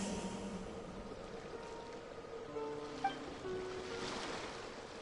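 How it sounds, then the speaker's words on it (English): Ocean waves in the Genshin Impact video game, a soft continuous wash of surf with faint wind and a brief small tone partway through, steady and distant. "Go to where you can hear the sound of the waves."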